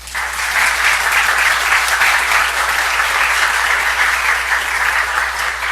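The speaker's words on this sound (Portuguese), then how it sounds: "uma salva de palmas aqui para..." Sustained audience applause fills a hall at the close of the sixth CEAP Forum, a dense, steady wash of many hands clapping at even loudness throughout, with no voices rising above it.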